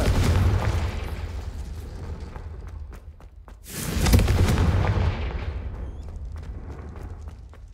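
A Confringo fire spell goes off in a Harry Potter video game, two rumbling blasts with a roaring whoosh in the middle and a long decaying tail, loud and close, with no one talking.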